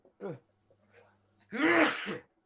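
A sudden sharp sneeze bursts out close by, loud and breathy, preceded by a quick intake of breath and a short vocal sound.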